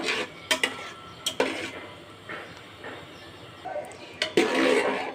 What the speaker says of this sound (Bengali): এতে দিয়ে দেবো ধনে পাতা কুচি এটা একটু নেড়ে নেব